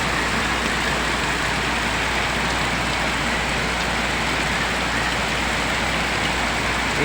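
Heavy rain pouring down in a flooding street, a loud, dense, unbroken roar of water close by, with a low rumble running underneath and no voices.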